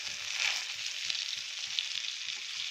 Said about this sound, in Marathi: आता आपण बटाटा परतून घेऊया